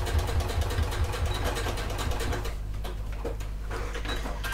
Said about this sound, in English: I'm just gonna reverse my stitch